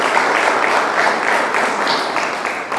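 Steady applause from an audience at a public event about founding a university faculty, a dense even wash of clapping held at the same level throughout.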